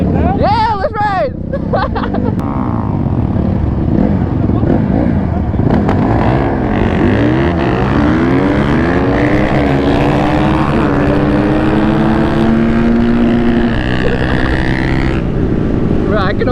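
Honda dirt bike and quad engines revving hard while racing, the whine rising and falling through repeated pitch sweeps, loud and close, with riders talking over the engines.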